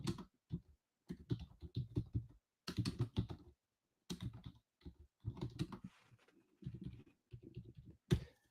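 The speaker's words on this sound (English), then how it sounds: "I'm typing in our chat" Rapid bursts of keystrokes on a computer keyboard clatter in short irregular runs with brief pauses between them, close and clear with no talking.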